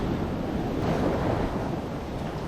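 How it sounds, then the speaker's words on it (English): Big ocean waves breaking at a coastal fishing spot, a steady loud rush of surf mixed with wind buffeting the microphone, continuous and close with no voices. "big waves"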